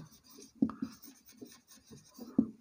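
A pen writing on paper in short scratchy strokes with a few sharper taps, close and quiet, no talking over it.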